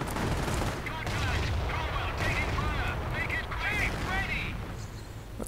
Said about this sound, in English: Cromwell's firing away.